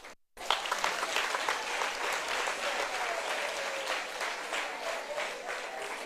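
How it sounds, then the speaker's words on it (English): Sustained applause from an outdoor crowd at a Uganda Girl Guides Association centenary celebration, steady and fairly loud throughout after a brief silent start. "Clap for the Lord."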